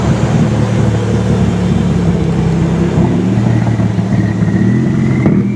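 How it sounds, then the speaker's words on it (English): A Lamborghini sports car drives past at a Daikoku parking area, its loud continuous low engine drone steady throughout, with a rising whine near the end as it goes by. "I think a Lamborghini's coming"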